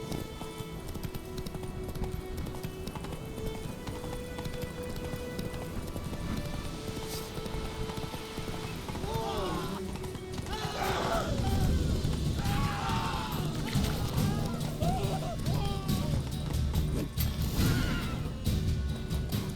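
Roach the horse galloping in The Witcher 3, rhythmic hoof clip-clop under game music and ambience, growing louder and busier partway through.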